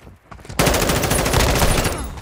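Call of Duty gunfire erupts abruptly into a loud, rapid automatic burst, shots rattling in quick succession close by for the rest of the moment.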